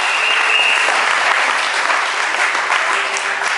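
A church congregation applauds to acclaim the Lord during a sermon, a loud, dense, sustained clapping from many hands close by that carries steadily from start to end without pause.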